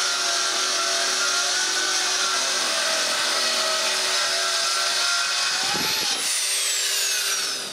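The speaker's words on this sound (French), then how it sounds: "Je les coupe donc avec le scie sur rail." A track saw cutting pieces of wood for furniture facings in a workshop: a loud, continuous high whine of the blade biting through the board, with a short pitch dip near the end as the cut finishes.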